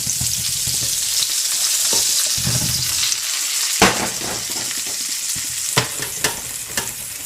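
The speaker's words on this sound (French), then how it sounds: "je vais faire revenir mes champignons et mes oignons dedans" Mushrooms and onions fry in beef fat and butter for boeuf bourguignon, giving a loud, continuous sizzle close up, with a few sharp utensil knocks and scrapes against the pan.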